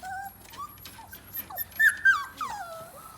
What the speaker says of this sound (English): that's a cute little pup right there